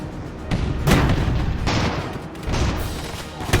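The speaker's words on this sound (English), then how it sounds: "Oh, there we go, ammo's going off." In the strategy game Airships: Conquer the Skies, ammunition cooks off in a rapid series of muffled booms and crackling blasts that stay dense and continuous over a few seconds.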